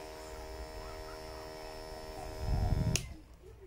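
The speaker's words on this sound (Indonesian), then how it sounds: "ini memang suaranya agak sedikit lebih keras jika dibanding dengan dinamo yang dulu pernah saya gunakan." A homemade aerator's small dynamo motor, running on a power bank and a bit loud, gives a steady close electric whine and hum that swells and then cuts off abruptly near the end.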